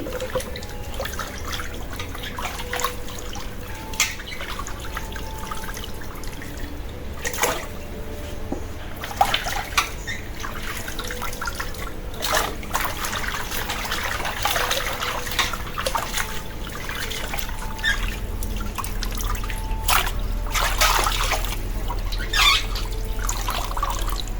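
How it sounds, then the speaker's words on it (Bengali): Cleaned pangas fish being washed in water, with steady trickling, splashing and occasional clatter close by, continuous throughout with no talking. "এই মাছ পরিষ্কার করে আমরা কাইটে ধুয়ে রাখি"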